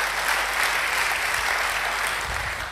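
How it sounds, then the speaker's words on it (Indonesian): A church congregation claps steadily during a sermon, a dense, even wash of applause that stays full and loud throughout with no voices rising above it. "Beri tepuk tangan buat dia"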